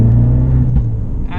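A 2017 Abarth 595 Trofeo accelerating in eco mode, its engine droning loud and steady close by, with one short exhaust bang breaking through near the middle.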